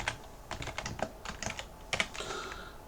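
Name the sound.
typing on computer keyboard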